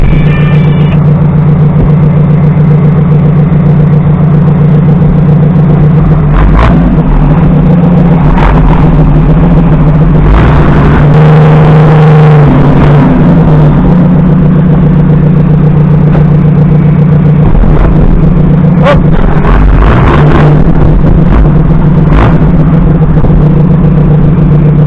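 Nissan car with its engine running as it moves, a loud steady low drone with occasional revs and mechanical knocks throughout.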